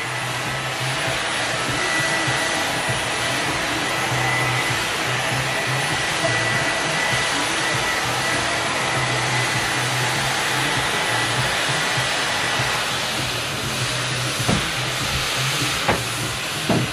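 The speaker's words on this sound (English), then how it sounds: "Since we are using the blow dry, just dry it a little bit more." Steady, loud whoosh of a blow dryer drying a washed curly wig, a continuous broadband rush with a low motor hum running unbroken throughout, no talking.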